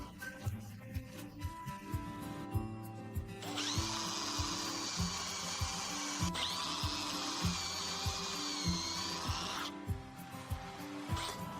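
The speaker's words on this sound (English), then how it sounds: "Drill all 4 holes on the side door completely through." Power drill boring holes through the sliding side door of a Peugeot Expert, Citroën Jumpy, Opel Vivaro or Toyota Proace van. A steady high whine holds for about six seconds with a brief dip midway, over light tapping and workshop noise.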